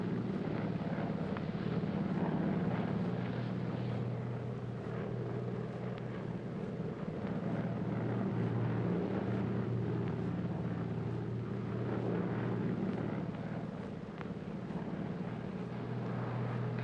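Steady low drone of a 1940s airliner's engines in flight, continuous and even throughout, with a muffled cabin rumble and no talking.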